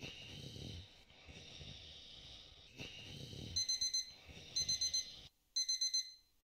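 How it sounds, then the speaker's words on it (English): An alarm clock in The Legend of Willow Valley game rings in three loud bursts of rapid electronic beeps, each cut short, following a soft snoring sound. "That was a terrible alarm."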